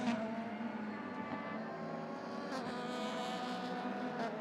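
Race cars at Magny-Cours pulling into the pit lane at night during a V de V endurance race, two CD Sport cars with mechanical trouble; a steady engine drone with harmonic tones fills the clip, slight swells near the end, no talk.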